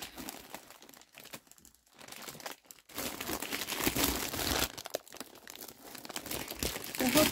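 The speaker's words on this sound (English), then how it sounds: "Sorry about the crinkling" Crinkly wrapping on a baby boy's gift basket rustles and crackles continuously at close range, with brief quieter gaps and no talking.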